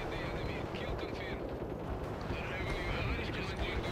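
Units trading fire in the World in Conflict: Soviet Assault video game, with dense rattling gunfire and explosive bursts over a rumbling battle bed, while someone talks over the action.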